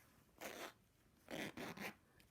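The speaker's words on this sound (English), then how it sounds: "this one also has a zipper down the front" Zipper on a beaded handbag being pulled open, one quick zip followed by a pause and then two more short rasping pulls, close and clear in a quiet room.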